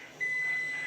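A buzzer wired in during a repair job switches on and holds a steady, loud electronic tone from a fraction of a second onward without a break, with faint background hum underneath.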